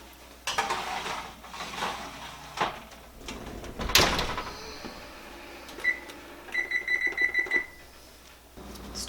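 An oven timer beeping in a home kitchen while peanut butter Easter egg cookies bake, a quick run of short electronic beeps after some clattering of pans and a door.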